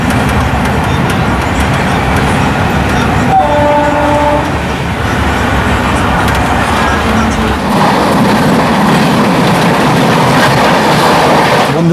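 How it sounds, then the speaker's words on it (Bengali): A train pulls into Bandel Junction station with a loud, steady rumble of wheels and carriages and a clickety-clack rhythm. A brief horn tone sounds near the middle, then the noise changes as the train slows. "এগারোটা 18 ট্রেন এসে পৌঁছালো ব্যান্ডেল জংশন স্টেশনে"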